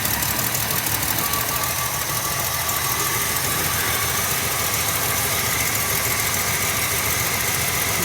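A 1966 Ford Mustang engine idles steadily, a continuous mid-pitched rumble with a slight knocking texture, close by and unchanging throughout, with water coming out of the exhaust.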